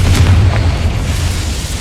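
A Confringo fire-blast spell in the Hogwarts Legacy video game, a loud, close, rumbling boom that fills the whole short moment with a deep roar.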